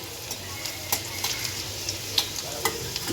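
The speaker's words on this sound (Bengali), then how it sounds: "এরপর এগুলো আমি একটু ভালো করে নেড়ে চেড়ে একটু ভেজে নেব" Garlic and five-spice seeds stir-fried in hot oil, a constant crackling sizzle broken by light scraping stirs at irregular intervals.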